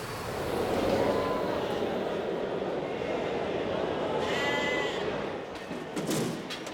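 Sheep bleating at a busy local livestock auction, a dense, steady crowd of overlapping calls with occasional thuds and a few brief bleats rising clearly out of the din.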